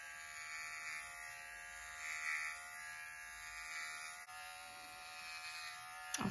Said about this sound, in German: Und damit sie sich besser pflegen kann, rasiere ich ihr jetzt Bauch und Popo.